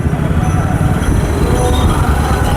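A train at a railway station, with a loud, steady rumble of wheels and carriages close by and faint voices in the background.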